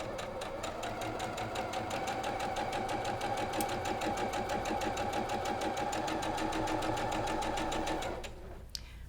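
A sewing machine runs steadily, close and loud, as it stitches a flying geese zigzag quilt block, then stops near the end with no voices.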